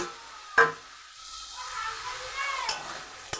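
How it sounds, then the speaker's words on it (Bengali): Fried okra lands in a pan of hot, oily spiced gravy for a sesame okra dish, giving a sharp clatter and then a steady close hiss of sizzling. "তো আমি ভেজে রাখা ঢ্যাঁড়সগুলো এর মধ্যে দিয়ে দেব"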